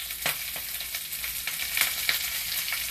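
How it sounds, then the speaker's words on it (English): Kale frying in a hot pan, a steady sizzle with sharp pops and crackles scattered through it, close up and alone without talk. "it's okay if you get a little popping"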